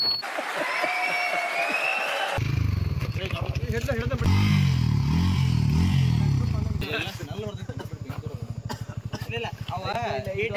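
Motorbike with a worn-out clutch pad labouring through heavy off-road forest terrain, its engine thrumming steadily and close, with shifting rattles and a person speaking over it throughout.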